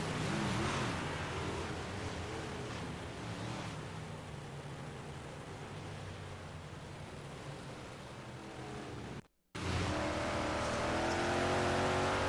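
Big block modified race cars roar around a dirt track, a loud broad engine drone that swells and fades as cars pass, cut by a brief dropout before the roar returns.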